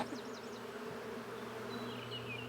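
A steady, close droning buzz of bees hums continuously, with a few faint bird chirps above it.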